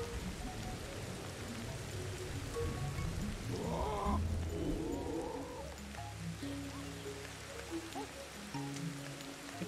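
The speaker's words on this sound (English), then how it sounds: "Okay, it's raining" Steady rain falls in the video game Ancestors, a continuous hiss of drops on surfaces under other game sounds and a few brief animal-like calls.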